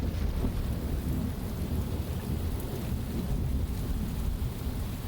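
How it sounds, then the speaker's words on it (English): A video game thunderstorm: heavy, continuous rain with deep, rolling thunder rumbling underneath, loud and steady throughout, with no talking. "It's raining"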